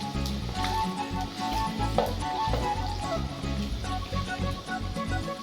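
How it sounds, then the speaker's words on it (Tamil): Steady sizzling of long-cut eggplant frying in oil, continuous and close, with faint ticks and crackles throughout. "நல்லா நீளமா நறுக்குன கத்திரிக்காய் உள்ள சேர்த்து நல்லா வதக்கி"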